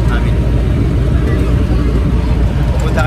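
A loud, steady engine rumble and road roar fill the cabin of a moving jeep in Sorsogon, dense low noise throughout, with a voice talking underneath.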